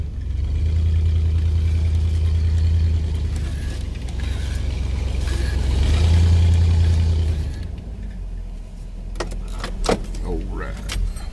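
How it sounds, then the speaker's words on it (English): A Pontiac car, just started after sitting unused for six months, idles with a low steady engine rumble that swells and fades, followed by clicks and mechanical rattles near the end. "let's let that Pontiac run a minute. I started up because it hadn't been started in 6 months"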